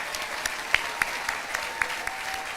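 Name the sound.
applause for college graduates at commencement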